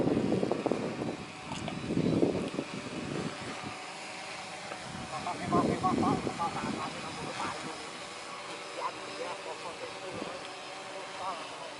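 A DJI Phantom 3 drone returning home and landing gives a faint, steady propeller whine under someone talking nearby, with outdoor background noise.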